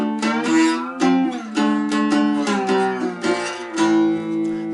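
Two-string cigar box guitar played with a slide in a 12-bar blues, moving through sliding, sustained chords across two bars. The playing is loud and close, with no talk over it.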